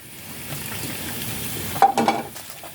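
Sautéed patola (sponge gourd) and cucumber stirred in a pan, a soft close sizzle with a quick burst of utensil scraping and clinks toward the end.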